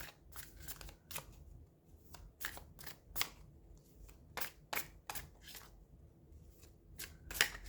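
Tarot cards shuffled by hand, with sticky palms from hand cream, give a close series of crisp riffling bursts, one after another in an uneven rhythm, with no talk.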